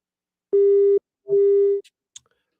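A phone-line hang-up tone on a radio call-in show: two steady electronic beeps, each about half a second long, followed by faint clicks. It is loud and clear with no talking.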